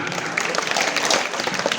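Students clap together at a school Independence Day celebration, a dense burst of applause lasting a couple of seconds at close range.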